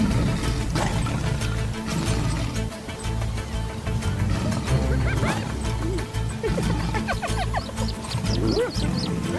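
A pack of African wild dogs yipping, barking and squealing in rapid overlapping bursts, close and busy, with scuffling and knocking noises mixed throughout.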